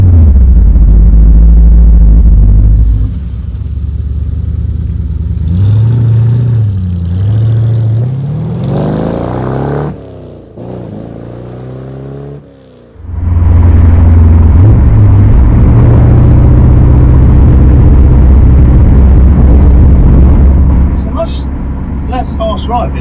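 A 1967 Corvette Stingray V8 rumbles loudly and revs through gears on damp British roads, engine swelling and dropping with a brief lull mid-way before roaring back, while someone talks over it.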